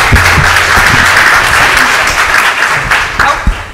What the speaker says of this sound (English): One round of applause for our panel again.